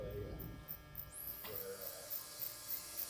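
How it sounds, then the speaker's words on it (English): Stylecraft electric hair clippers cut hair during a fade, giving a close, steady motor buzz whose pitch shifts as the blade moves, while people talk over it. "The clippers are so easy to cut with."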